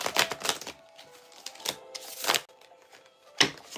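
Tarot cards are shuffled in quick crisp bursts of riffling and tapping, close and clear, with short pauses between.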